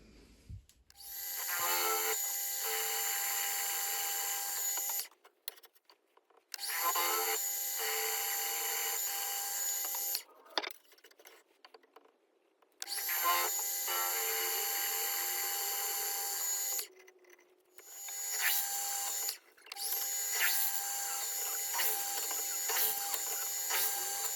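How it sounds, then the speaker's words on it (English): A power drill whines steadily in several long bursts, separated by short pauses with small clicks and handling noises; no talking. "now I can go back and actually drill them out fully"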